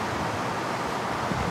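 Fairly strong outdoor wind buffets the microphone in a steady, broadband rush, with no voices and no breaks across the short stretch.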